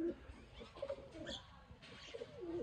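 A pure Sialkoti Kalsira pigeon gives low, rolling coos in a few soft bursts, faint and close with light background noise.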